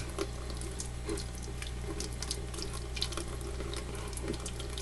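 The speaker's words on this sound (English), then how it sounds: "you pour some hot water right over that spot." A steady, faint stream of hot water pours continuously over a spot on glass, with small irregular splashes and a low hum in the background.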